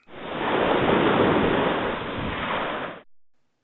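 Ocean waves surging in a broad, loud rushing wash that swells and holds for about three seconds before cutting off abruptly, with no voices.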